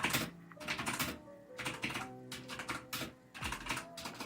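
Keys clatter on a computer keyboard as code is typed, in quick bursts of rapid clicks separated by short pauses, close but fairly soft, with no one speaking.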